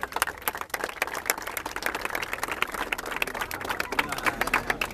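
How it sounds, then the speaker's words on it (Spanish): A crowd claps and cheers at a rap battle final in Santa Fe, dense applause with sharp individual claps over a murmuring crowd, heard from a moderate distance. "¡Fuerte aplauso!"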